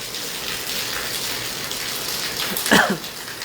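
Rain patters down in Hisar as a continuous, washing hiss, with a brief louder splash or passing swish near the end and no voices.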